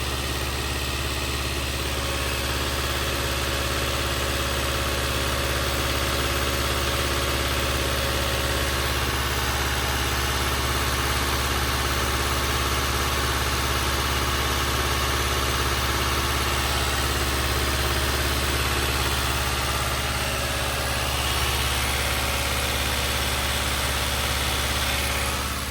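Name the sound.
car engine idling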